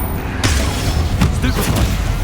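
Explosive Confringo spell blasts in Hogwarts Legacy, several booming bursts over a dense, rumbling spell-combat din, with a voice shouting spell names over the top.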